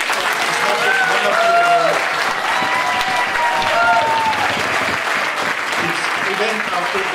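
A crowd applauds steadily at a black tie ball in a Stansted Hilton, a dense, even wash of clapping with voices talking and calling out over it throughout.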